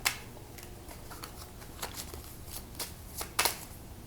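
Tarot cards being shuffled and drawn by hand: soft, scattered papery flicks and riffles with a few sharper snaps, close and fairly quiet, with no talking.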